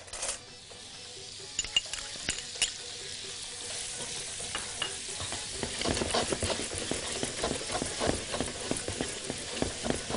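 Garlic sizzles and fries in a pan for fattah with tongue, broad steady hiss under repeated scraping and clinking stirs that grow busier toward the end, close up with no talking.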